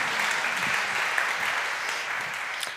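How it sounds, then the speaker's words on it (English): A round of applause from the audience at a public meeting for the evening's chairman, a dense, steady crowd clapping that holds at an even level throughout with no voices standing out. "It's wonderful when you get applause before you do anything."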